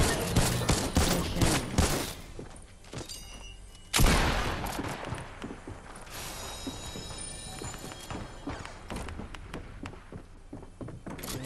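Rapid gunfire in the Fortnite video game, repeated sharp shots and bursts running throughout, with one heavy blast partway through and scattered clatter underneath.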